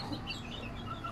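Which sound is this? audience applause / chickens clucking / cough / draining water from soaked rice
chickens clucking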